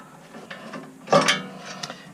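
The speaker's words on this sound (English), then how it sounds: "support the caliper and undo the lower bolt" Lower brake caliper bolt on a Toyota Tundra front brake being undone by hand, giving a few faint mechanical clicks followed by one louder ratcheting burst in the middle, then quieter scattered ticks.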